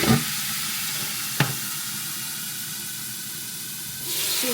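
Soy sauce hits a hot frying pan with chicken feet, setting off a steady, loud hiss and sizzle that holds throughout, with a faint clink near the start and the spatter swelling again at the end.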